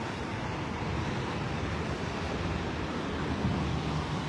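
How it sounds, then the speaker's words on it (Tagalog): Wind blowing outdoors near a pedestrian path in Hong Kong, a steady loud rumbling buffet against the microphone with no gaps, with no talking. "Windy dito po sa HK Windy."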